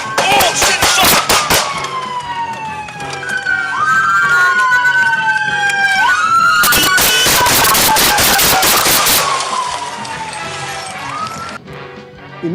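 Police gunfire rings out in rapid, sharp bursts at close range, mixed with wailing, sweeping emergency sirens that carry on loudly throughout.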